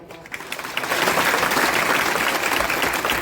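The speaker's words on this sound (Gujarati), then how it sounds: "એક વાર હું એમ કહું છું, એવી તાળી પાડો અંજની સંભળાય." Audience applause at a Jay Shree Krishna Ramamandal devotional performance in Surat: clapping starts thin, swells within a second into a loud, dense, sustained ovation, and continues steadily to the end with no talking.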